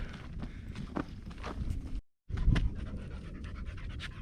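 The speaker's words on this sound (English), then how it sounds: "We're walking with the dog Hop." A dog pants steadily and rhythmically close by while walking outdoors at night near Lake Mead, with soft footsteps and a brief dropout midway.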